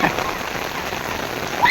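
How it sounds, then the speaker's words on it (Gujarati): Heavy rain falls steadily, a dense, loud hiss of drops pattering on nearby surfaces throughout, with no voices heard. "તો વરસાદ હવે વધ્યો છે."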